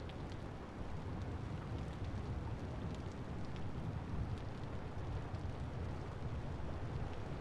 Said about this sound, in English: Alright, now it's just rain.